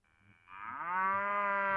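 A single cow lets out a long, rising moo that swells and holds steady at a close, clear distance.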